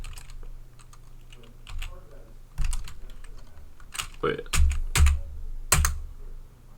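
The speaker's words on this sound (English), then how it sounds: "You can hear what I'm gonna choose because my keyboard's so loud." A loud computer keyboard clatters in scattered bursts of sharp, close key clicks, with a voice speaking briefly between the keystrokes.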